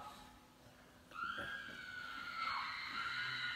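Women's cries offstage in a stage production of Macbeth, a high wavering wail that rises suddenly after a second of quiet and holds steadily, bending downward midway, heard at moderate distance.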